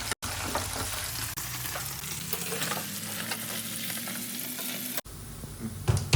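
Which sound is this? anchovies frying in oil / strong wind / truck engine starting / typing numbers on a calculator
anchovies frying in oil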